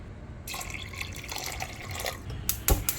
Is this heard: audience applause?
no